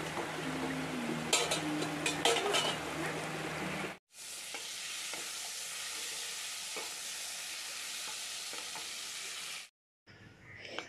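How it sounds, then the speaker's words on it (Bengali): Fish fat crackles and sizzles in hot oil, a dense bright spitting hiss with occasional utensil taps, cutting off abruptly twice as if the recording skips. "লাস্টে মাছের তেলটা ভেজে নিলাম।"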